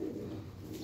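Female Kasuri Kamagar pigeon giving a soft, brief low coo, faint and close by with no talking.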